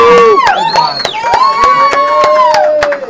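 An audience at a live interview applauds and cheers, with a dense wash of clapping, shouts and rising, falling whistles that runs steadily and loudly throughout.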